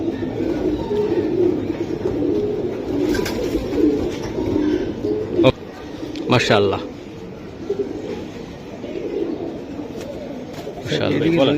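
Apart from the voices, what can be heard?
pigeons cooing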